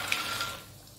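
Seeds crackling and popping in hot oil in a home cooking pan, a brief burst of dense, close crackle that quickly fades, with no voices.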